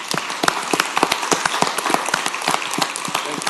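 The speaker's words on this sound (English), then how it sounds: "I'd like to have them stand and just a round of applause." Audience at a city council meeting breaks into a round of applause, a dense, steady patter of many hands clapping together throughout, fairly loud and sustained with no talk over it.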